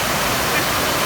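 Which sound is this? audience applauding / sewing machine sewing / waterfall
waterfall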